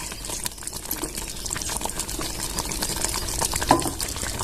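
Sweet rice cooked with jaggery water simmers gently in a pot over a low gas flame, giving a steady soft bubbling and hissing bed that runs evenly throughout, with no voices.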